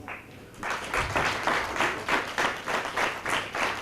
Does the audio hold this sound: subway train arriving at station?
no